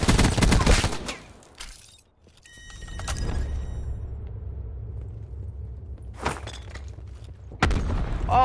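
A grenade blast and gunfire in Call of Duty Black Ops Blackout: a loud opening boom, a deep rumbling tail, then sharp bursts of shots breaking through near the end.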